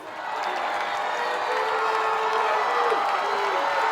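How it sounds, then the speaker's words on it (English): Crowd noise from the stands at a high school football game between Maplewood and Crystal City, a steady roar of cheering and shouting from both sides that swells after a quick fade-in and holds loud throughout. "the crowd's making some noise, both sides, both the Maplewood crowd and Crystal City"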